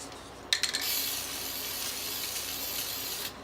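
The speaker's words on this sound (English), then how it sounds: "And I spray it on the surface of the stick." A few short clicks, then a continuous hiss of an aerosol can of DAP Weldwood contact cement spray adhesive spraying onto a stick for about two and a half seconds, close and steady.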